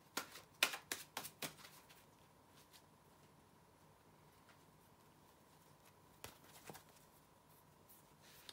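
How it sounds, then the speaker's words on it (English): Tarot cards are shuffled in a quick flurry of soft flicks at the start, then quiet, then a brief second burst of shuffling, close and faint. "bear with me a second, guys, to shuffle the tarot cards"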